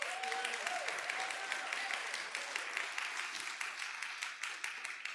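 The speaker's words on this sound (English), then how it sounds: "So let's applaud them as well." A church congregation applauds the musicians and helpers, a steady patter of many hands clapping at moderate distance, with a brief tonal whistle or voice early on before the clapping slowly thins.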